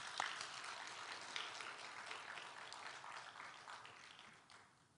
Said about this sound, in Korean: 우리 그동안의 노고와 수고에 감사해서 우리가 박수 한번 해드렸으면 좋겠습니다.